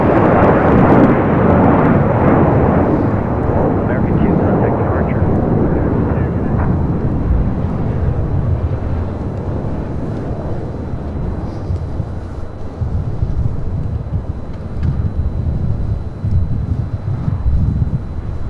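A jet airliner takes off from runway 25 right at LAX. Its engines give a loud, steady roar that slowly fades while wind buffets the microphone and air traffic control radio chatter plays underneath.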